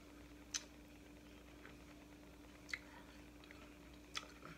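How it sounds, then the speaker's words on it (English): Three faint, sharp crunches spaced a couple of seconds apart come from someone biting and chewing a jicama wrap taco, heard close against a quiet background hum. "you can hear a little bit of the crunch maybe from the jicama wrap"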